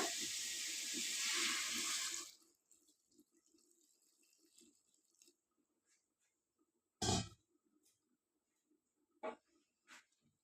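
A glass of water pours steadily for about two seconds into cooking masala for a chickpea curry, then stops, leaving a quiet room with a few faint clinks and knocks.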